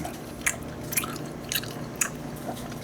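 Chewing a convenience-store skewered giant squid leg, close and fairly quiet, with four or five evenly spaced wet, squishy bites about half a second apart and no talk.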